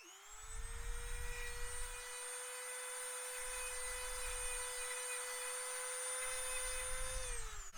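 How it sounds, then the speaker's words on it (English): A small Dremel rotary tool whines at a steady high pitch for several seconds, close up, then spins down at the end. "So I just brought the Dremel to the camera and look."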